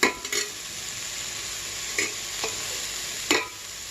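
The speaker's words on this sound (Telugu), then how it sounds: "ఆ మసాలా అంతా పట్టిందాక ముక్కలకి లోలో ఉంచేసి వేయించుకోవాలి" Soya chunks fry with masala in a pan, giving a soft continuous sizzle, while a spoon scrapes and stirs in a few sharp strokes spaced through the clip.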